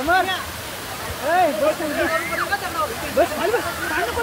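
A waterfall at Panvel near Navi Mumbai pours in a steady broadband rush of splashing water, with several people chatting and calling out loudly over it throughout.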